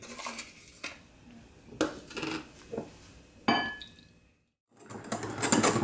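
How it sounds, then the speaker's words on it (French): Utensils clink and scrape against a bowl while mixing mascarpone with milk, several short bursts of stirring close by, with brief pauses between strokes. "Je vais commencer par mélanger donc le mascarpone"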